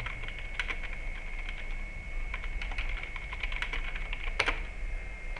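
Someone types a name on a computer keyboard in quick, close, irregular bursts of crisp key clicks over a faint steady hum, with no talking.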